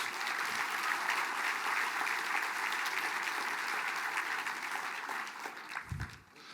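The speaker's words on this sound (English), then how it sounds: "can we give the dignitaries one more round of applause, please?" A crowd applauds the dignitaries at a tribal State of the Band gathering, a sustained, even roar of clapping that holds steady and then thins out near the end.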